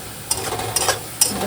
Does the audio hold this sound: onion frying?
yes